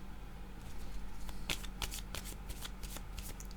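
A deck of cards is cut and riffled, giving bursts of crisp flicking and papery clatter over a low, steady background hum, with no voices.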